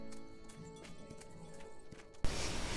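Horse hooves clip-clop in a steady rhythm in a farm video game, beside musical background, then a burst of bright noise closes the clip.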